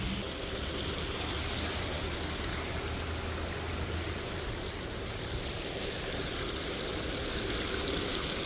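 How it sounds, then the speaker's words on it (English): Water trickles and splashes inside a small hole near a hidden waterfall at a forest preserve, heard as a steady, broadband, stream-like wash that fills the whole stretch without pause. "Definitely sounds like some water in here though."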